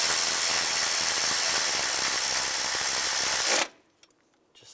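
A power tool runs in a steady, loud whir while tightening fuel injector bolts on a 2007-2013 Chevrolet Silverado 1500, then stops abruptly, leaving near silence with a faint click.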